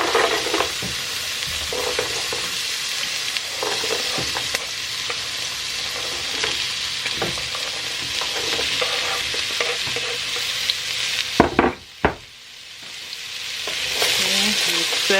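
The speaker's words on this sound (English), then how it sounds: "I'm going to add my carrots, celery, and onion" Diced carrots, celery and onion sizzle loudly and steadily in a pot, a dense continuous frying hiss with occasional stirring scrapes and clanks near the end.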